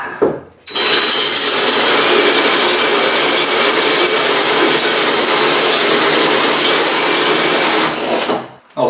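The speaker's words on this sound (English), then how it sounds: "All right, drilled a hole through my block and I stuck the spout in." A power drill cuts a hole through a block in a shower, running as one loud continuous whine for about seven seconds with a short start and a stop at the end, close up.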